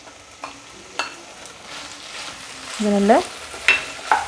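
Finely chopped small tomatoes frying in a pan, giving a steady sizzle broken by the scrape and clatter of stirring, while someone speaks briefly.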